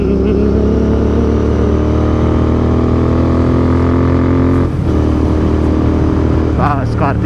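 A Continental GT 650 motorcycle on the road with its engine droning loud and steady, close to the mic with heavy wind rush, briefly shifting gear partway through as a voice says a word near the end.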